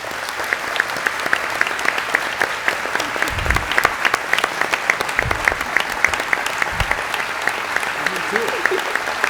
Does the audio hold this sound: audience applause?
yes